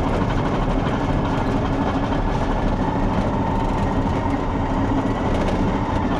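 A Cat D6 XE hybrid bulldozer driving in full gear, a loud steady low engine and drivetrain rumble with rattling track clatter throughout, heard from inside the cab without pause.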